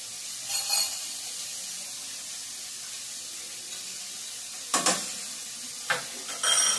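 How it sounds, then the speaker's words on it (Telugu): Onions with salt frying in a pan: a steady sizzle runs throughout, broken by a few brief stirring scrapes near the start and end, with no talking. "ఓకే, ఉల్లిపాయ అయితే చక్కగా వేగింది."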